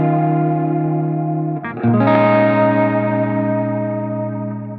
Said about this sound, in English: we're getting a lot of movement in the reverb decay, but because the rate is slow, it just kind of achieves this nice lush modulation over a longer time